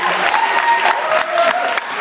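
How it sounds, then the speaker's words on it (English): Guests at a school prom break into loud applause and cheering, a crowd of clapping hands with a few voices mixed in, close and continuous. "give her a round of applause and just say thank you"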